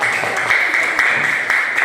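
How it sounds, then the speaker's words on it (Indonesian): A classroom of students is clapped for in a Christian religious education lesson, with dense, steady applause running throughout at an even level and sharp slaps standing out now and then. "tepuk tangan untuk kalian"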